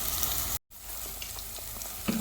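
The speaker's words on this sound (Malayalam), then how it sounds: "ഇനി നമുക്ക് അരച്ച് വെച്ചിട്ടുള്ള അരപ്പ് ഇതിലേക്ക് ഒഴിച്ചു കൊടുക്കാം" Ground coconut paste goes into a hot pan of Kerala-style prawn curry, which gives a steady close sizzle that breaks off for an instant and then resumes more softly.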